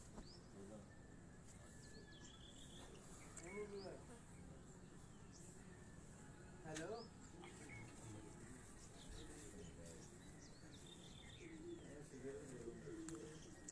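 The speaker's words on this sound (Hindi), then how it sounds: "ये दोस्तों अब तीन कबूतर जो हैं ये इकट्ठे आपको नजर आ रहे हैं।" Soft coos from three pigeons on a rooftop repeat now and then through steady outdoor background noise, with faint chirps and a low murmur of voices.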